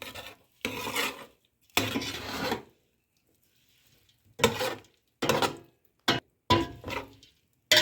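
Pectin being stirred into mulberries for jam: several short bursts of wet rasping and scraping as a spoon works through the berries, separated by silent pauses, close and fairly quiet.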